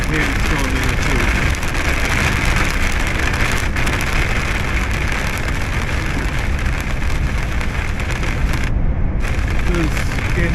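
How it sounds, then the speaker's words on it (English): A heavy shower of mostly rain mixed with hailstones pours down in a loud, dense, continuous hiss and patter that fills the whole stretch, with a brief dip near the end. "The hailstone, well, mostly rain, but there's hailstone in it too."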